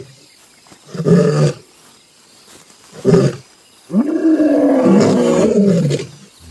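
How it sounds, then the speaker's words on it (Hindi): Wild lions roaring threateningly, several deep, loud roars with pauses between and one long sustained roar at the end, insects and crickets faint in the background. "दो किलोमीटर दूर कॉलर उनकी धमकी भरी दहाड़े सुनता है।"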